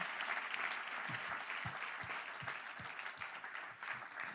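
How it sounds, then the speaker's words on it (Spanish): A church congregation claps continuously and evenly throughout, a dense sustained wash of applause with a few louder hand claps standing out. "Dale un aplauso al Señor."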